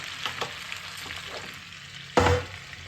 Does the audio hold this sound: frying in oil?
yes